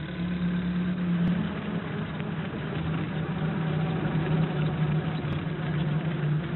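A small post van engine drones steadily along a country valley road on a sunny morning, a continuous mid-low motor hum with a faint steady tone, no voices.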